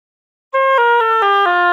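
An oboe plays a short etude passage using regular or left F, with a clean, bright tone. Four or five distinct notes step downward after a moment of silence, played close and alone.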